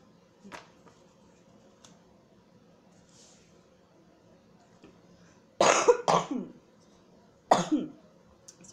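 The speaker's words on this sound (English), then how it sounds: "Just getting over this cough." A few harsh, loud coughs close by, a quick pair followed by another after a pause, with near silence in between.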